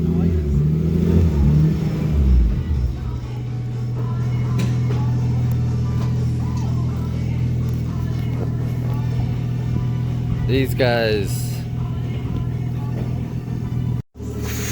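A turbocharged G6E car with an automatic gearbox revs hard at the start and again briefly later, its engine rumbling steadily underneath while people talk over it.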